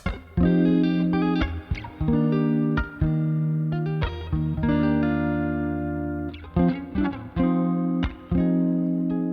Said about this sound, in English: And then I throw a little chorus on there,